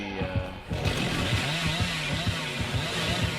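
Chainsaw revving in the horror game Dead by Daylight, a steady buzzing drone with rhythmic pulsing bursts throughout, fairly loud and continuous.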